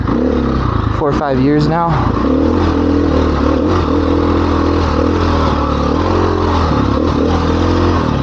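A 2015 KTM 500 XCW dirt bike engine idles close by with a short rev burst near the start, its steady low rumble running under someone talking throughout.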